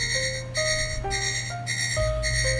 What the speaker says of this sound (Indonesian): sepertinya di sini alarm kita berbunyi ya